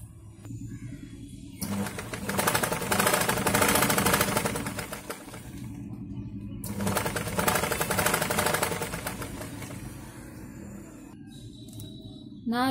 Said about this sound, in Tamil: இப்போ வந்து இந்த சாரியோட கிளாத்தையும் கேன்வாஸையும் வச்சு சுற்றி ஒரு அவுட்லைன் தச்சுக்கிடுவோம்.